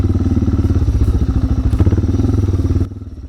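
A Suzuki motorcycle ridden off-road in Morocco: a loud, close engine with a rapid, pulsing beat and rattling, which cuts away abruptly near the end.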